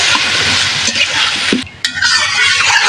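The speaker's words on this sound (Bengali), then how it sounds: "পানি দিয়ে দেবো" A loud, close sizzle of curry of taro and cauliflower frying in a pan as water goes in, a steady hiss with stirring scrapes and a brief dip partway through.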